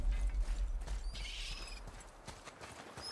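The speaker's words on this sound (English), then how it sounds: "Start by lifting that axle." A heavy axle mechanism is lifted in the God of War video game, giving low mechanical rumbling and creaking with gear-like clanks and scattered hoof-like knocks against a continuous game ambience.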